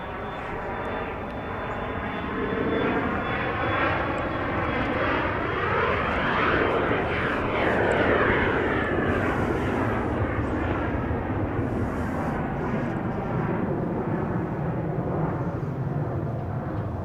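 Airliner at Dallas Love Field, an aircraft in service for about two decades, roars past steadily and loudly for the whole stretch, engine tone swelling and sweeping through a Doppler shift as it passes close by.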